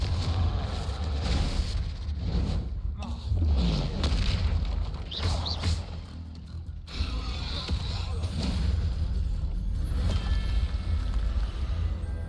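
Spell blasts and explosions from a Harry Potter video game, a dense run of booming bursts and rumbling impacts that continues steadily, with a brief lull near the middle.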